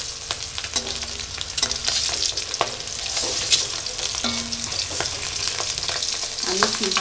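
Egg curry masala sizzles and fries in a pan with turmeric water and chopped onion, a steady close crackle broken by repeated scraping stirs of a utensil against the pan, no talking.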